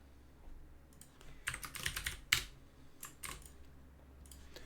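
Typing on a computer keyboard while writing code: a few quick bursts of close clicky keystrokes separated by short pauses, fairly quiet and with no talking.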